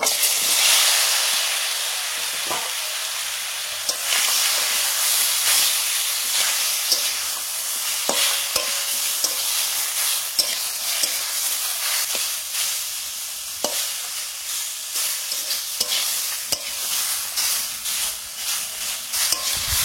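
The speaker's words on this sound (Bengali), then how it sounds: "পাঁচ ফোড়ন, এবার চালতাগুলো ঢেলে দেবো।" Elephant apple pieces fry in oil with dried red chilli and five-spice mix, giving a continuous loud hissing sizzle with scattered crackles and pops and no talking.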